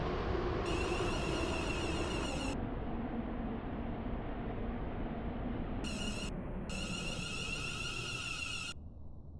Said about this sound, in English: This train terminates here.